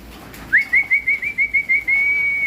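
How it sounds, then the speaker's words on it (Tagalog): A sharp human whistle calling pigeons to feed repeats in short rapid pulses, about eight, then stretches into one long sustained tone, clear and close over a quiet background. "Kailangan matuto silang matawag sa sipol."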